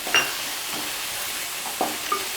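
Spring onions, carrot and green chillies being stir-fried for vegetable fried rice: a soft, steady sizzle with a few quick scraping strokes of a spatula in the pan.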